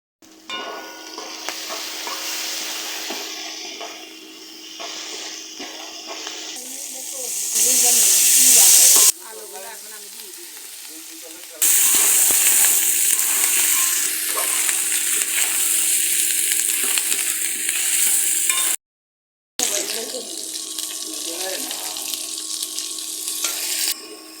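Onions fry in a pan that has just been used to fry potatoes with turmeric and salt, for a Chinese duck curry. A loud, continuous hiss and crackle runs throughout, with abrupt cuts and one brief silent gap.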